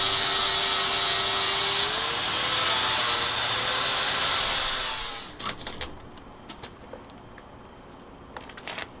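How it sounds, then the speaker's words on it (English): A power tool dressing up and cleaning welds, grinding steadily and loudly for about five seconds before cutting off, followed by scattered clinks and light metallic knocks. "he's dressing up some of the welds that are underneath there, getting them cleaned up"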